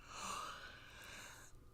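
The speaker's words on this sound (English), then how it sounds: "I'm yawning now." A long, breathy yawn is drawn out for nearly two seconds, close and soft, with an airy, sustained exhale that fades at the end.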